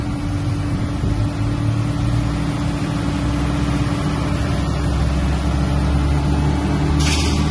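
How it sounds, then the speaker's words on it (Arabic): A 1998 Plymouth Prowler's 3.5-litre V6 idles steadily at close range, a continuous low rumble with a broadband hiss over it and no voices. "هذه ماكينة السيارة، تجي 6 سلندر"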